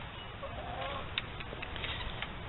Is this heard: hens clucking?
yes